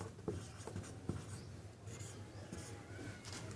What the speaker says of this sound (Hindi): तो हम लोग लिख लेते हैं